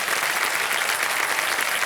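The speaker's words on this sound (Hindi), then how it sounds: "सोनाली जी, तालियां बज जाएं आपके लिए" A studio audience at the KBC quiz show claps for a returning contestant, a dense, steady wash of applause with no break.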